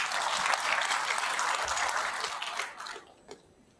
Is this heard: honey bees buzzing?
no